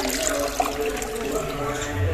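Torn spinach leaves are washed in a third change of water, giving sloshing and splashing sounds with a voice talking over the water.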